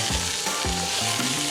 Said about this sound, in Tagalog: when you fry the other side, the white thing here, the cooked part of the salmon, lalaki yan